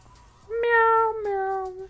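Two drawn-out cat meows in a row, the second slightly lower and trailing off, clear and close over a faint electronic background hum, from the video game BattleBlock Theater.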